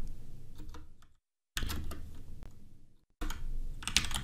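Rapid typing on a computer keyboard, dense clicking keystrokes in bursts separated by two short silent gaps, close and fairly quiet, with no talking.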